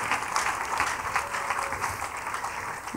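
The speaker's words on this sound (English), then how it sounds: "Put your hands together for Jesus Christ." A church congregation claps together in steady, sustained applause for a few seconds, a dense wash of hand claps filling the room without voices over it.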